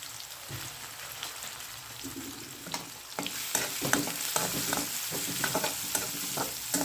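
Onions and chillies frying with turmeric in a pan, with a close, crackling sizzle and repeated scraping stirs that grow busier partway through.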